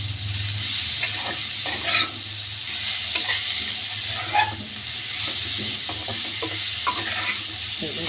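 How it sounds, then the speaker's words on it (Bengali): Watermelon rind sautéing with spices in a pan, a continuous sizzle with repeated stirring and scraping strokes from a utensil and a few brief louder scrapes, close and alone. "এবার এটা দিয়ে ভালো করে মশলার সাথে কষাবো"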